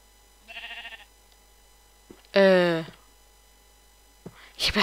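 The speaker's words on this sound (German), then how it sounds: "Schaf! Hallo, Schaf! Na, Schaf?" Sheep in Minecraft bleat in short, quavering calls, a fainter one followed by a loud, close one, with brief game clicks in between.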